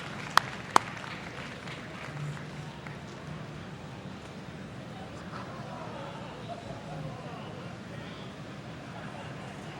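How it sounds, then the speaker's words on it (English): A crowd at a Tetris regional championship, the CTWC Genesis event, applauds player Fractal as he wraps up his warm-up. The steady, broad clapping runs throughout, mid-distance and moderately loud, with a couple of sharp pops near the start. "give it Fractal a round of applause as he finishes up his warm-up"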